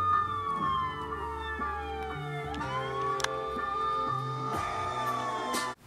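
A police siren wails steadily, rising and falling in pitch, loud and continuous until it cuts off abruptly at the end.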